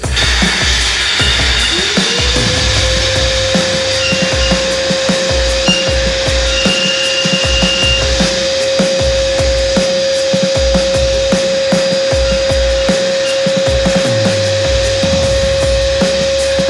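A walnut media blaster cleans the intake valves of a BMW N54 engine, giving a loud, steady close hiss with a faint rhythmic pulsing underneath as the blaster is cycled on and off.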